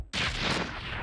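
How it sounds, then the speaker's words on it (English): A video game explosion in Sly 2: Band of Thieves, where an engine is blown up, bursts in suddenly with a loud, broad boom and then settles into a rumbling, crackling decay. "that was a pretty underwhelming explosion after all the trouble I went through to get that done"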